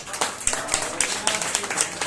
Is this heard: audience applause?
yes